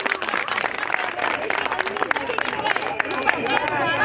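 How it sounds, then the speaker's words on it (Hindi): A crowd of anganwadi women at a late-night sit-in protest claps in dense, steady applause, with voices mixed into the clapping throughout. "आपके लिए स्पेशल तालियां।"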